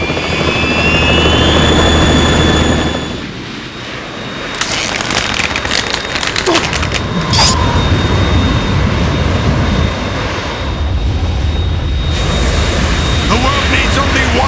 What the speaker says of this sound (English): It's the Harrier.